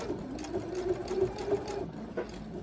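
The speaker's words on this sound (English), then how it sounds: "My machine does a fix. You can do a back and forth to secure your stitch." Sewing machine stitching a quilt binding, a close, steady mechanical whirring hum with small rhythmic variations as it runs continuously.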